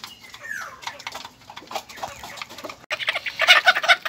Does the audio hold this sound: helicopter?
no